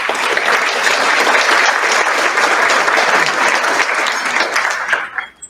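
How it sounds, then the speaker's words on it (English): Sustained, dense applause from an awards-ceremony audience honoring committee members, loud and steady throughout before tapering off at the very end. "let's give them a round of applause"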